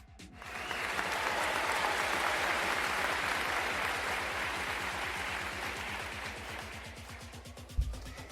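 A crowd claps, the applause swelling quickly and holding steady for several seconds before tapering, with a single thump near the end.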